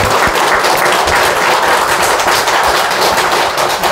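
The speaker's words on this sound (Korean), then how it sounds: "교도 회장님께 큰 박수." Dense, loud applause from a congregation at a Sunday service in a Won Buddhist temple, a steady wash of many hands clapping that fills the whole stretch without pause.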